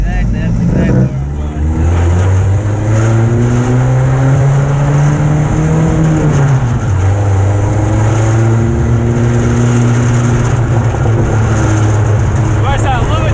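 A turbo dune buggy drives along, its engine holding a loud, steady drone that dips with a gear change partway through, while people chat faintly over it.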